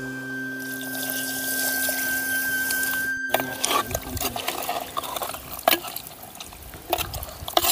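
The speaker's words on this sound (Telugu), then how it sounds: "ఇందులో ఒక 250 ml ½ లీటర్ వాటర్ వేసుకుందాం" Water poured into a pot of chicken curry, a steady pouring wash that breaks into irregular splashes and sloshing bursts partway through, close and moderately loud with no talking.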